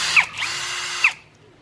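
NAGAWA NCB22K cordless drill spinning up at high speed then low speed, a steady whining motor hum running alone for about a second with a brief shift in pitch, then stopping.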